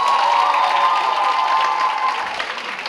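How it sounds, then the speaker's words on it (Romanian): Loud audience applause at a high school ball in a hall, with dense clapping mixed with cheers from the crowd, holding steady and then easing slightly toward the end. "încă un rând de aplauze furtunoase pentru prima pereche din această seară."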